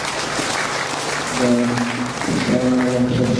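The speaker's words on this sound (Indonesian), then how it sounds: "Kami mohon tepuk tangan untuk para pembicara" An audience at a seminar session applauds the speakers, sustained steady clapping throughout while a voice speaks over it in the second half.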